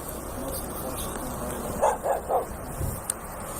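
A dog barks three times in quick succession in an open field, moderately distant over a steady hiss of background noise.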